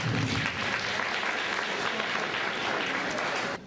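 Sustained applause from an audience at a francophone immigrant women's community event, a thick, even roar of clapping that drops off abruptly at the very end.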